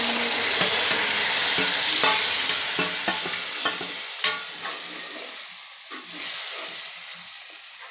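Peanuts tumble into a pan of fried chillies and sizzle loudly, with spoon stirring and scraping clicks; the frying hiss fades gradually as the stirring continues.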